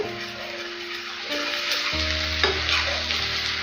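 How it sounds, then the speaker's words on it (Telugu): Ginger garlic paste fries on a low flame with a continuous bubbling sizzle and occasional stirring, along with a steady tonal hum in the background. "లో ఫ్లేమ్లో పెట్టేసుకొని బాగా ఫ్రై చేసుకోండి బాగా వేగాలి అల్లం వెల్లుల్లి పేస్ట్"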